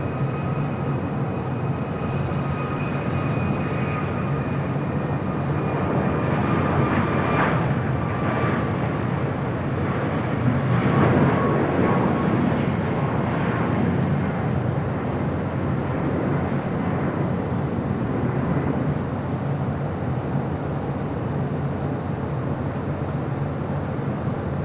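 A United airliner departs LAX with a broad, steady jet roar that swells toward the middle and then slowly fades into a distant rumble, with no talking.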